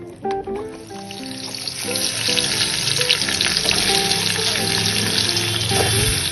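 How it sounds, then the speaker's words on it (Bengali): Katla fish head coated with salt and turmeric fries in hot oil, a loud steady sizzle with crackling spatters close up, no talking. "আমি নুন হলুদ মাখিয়ে এবার ভেজে নিচ্ছি"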